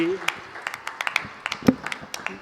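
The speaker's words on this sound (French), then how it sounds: "Un grand applaudissement" Scattered applause from a church congregation at a worship service: sparse, uneven claps from a handful of people, fairly close, with some voices mixed in.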